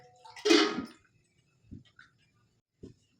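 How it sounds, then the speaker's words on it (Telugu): Measured water poured into a cooking pot with flour for dough: a short splashy pour lasting under a second, followed by a couple of soft knocks and quiet stretches. "సో వాటర్ కూడా మెజర్ చేసుకొని పోసుకోవాలి"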